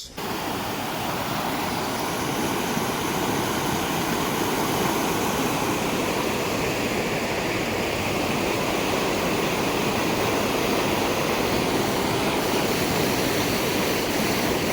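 Kalsa waterfall in the jungle roars as a dense, constant rush of falling water, loud and close, unbroken for the whole stretch with no voices over it.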